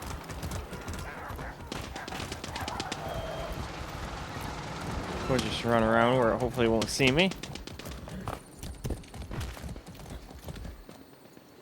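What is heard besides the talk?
horse hooves, from a video game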